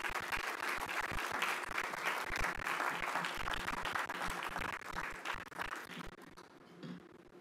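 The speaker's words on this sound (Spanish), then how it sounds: "E igualmente despedimos a nuestros panelistas con un fuerte aplauso." Audience applause sending off panelists at a launch event for a Panamanian transparency initiative: a full, dense round of clapping from a crowd, steady and fairly loud before thinning out and fading near the end.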